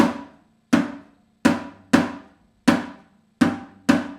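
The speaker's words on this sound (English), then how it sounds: "So the slap he plays sounds like this." Seven sharp percussive slaps on a pandeiro with jingle shimmer, each decaying quickly, played in a steady spaced pattern with no voices.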